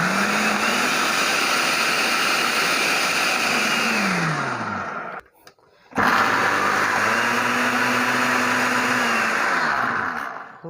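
A Miyako food processor chopping vegetables whirs loudly and steadily for about five seconds, winds down, stops briefly, then roars back up and runs again before fading near the end.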